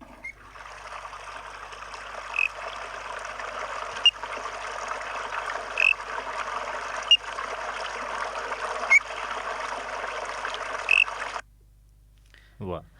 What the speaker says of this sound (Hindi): ये बड़ा ही प्यारा सा मेंढक है। अच्छा। जो कि गधेरों में पाया जाता है।